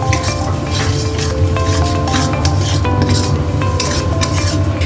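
A spoon scrapes and stirs a mustard-poppy seed spice mixture with a little sugar repeatedly in a pan, with a soft sizzle and light metallic clinks throughout.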